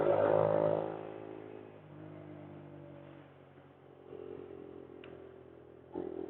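A Yamaha YS125 motorcycle drones steadily while being ridden. The engine is loudest at the start, then settles into a lower, even hum, with a brief clunk near the end.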